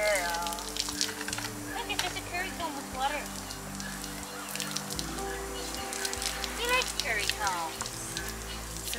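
A garden hose fitted with a spray attachment showers water onto a horse during a bath, a continuous sizzling hiss with spatter, and a person talks over it.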